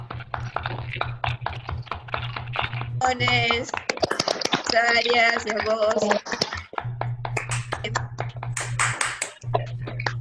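Scattered hand claps from participants at an online conference held over a video call, tapping on through the clip while voices talk over them.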